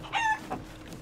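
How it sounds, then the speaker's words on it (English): A chicken in Sea of Thieves gives a short, close cluck and squawk, a loud bright call followed by a softer second note, with no talk over it. "let the stream watch this chicken now"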